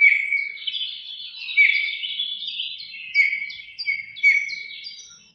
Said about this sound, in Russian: Это снегири. Красные яркие грудки, черные хвостики и голова поют вот так.